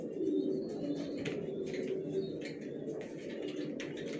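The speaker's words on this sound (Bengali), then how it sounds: "এই যে নটটা দেখেন কিভাবে ডাকতেছে।" Racing pigeons coo softly in a loft, low rhythmic throaty calls repeated under faint chirps and background noise, fairly quiet and close.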